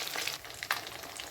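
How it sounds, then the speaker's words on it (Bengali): A fish head fries in hot oil on a gas stove, a steady close sizzle with faint crackles throughout. "আর একটু ভাজা হোক"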